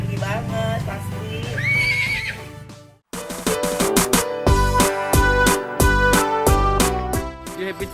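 A horse meets a girl named Cici and whinnies loudly, a clear neigh in the opening seconds, then further horse calls and hoof sounds follow amid lively background noise, with people chatting nearby.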